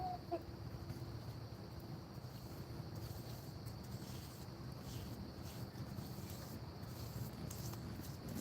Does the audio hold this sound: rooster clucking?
yes